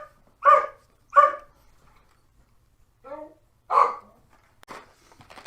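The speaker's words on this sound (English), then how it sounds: "why is there a dog barking?" A Jack Russell terrier named Jack lets out a few sharp, separate barks, two in quick succession and then another after a pause, fairly close and loud in a quiet room, with a short whine or voice sound between them.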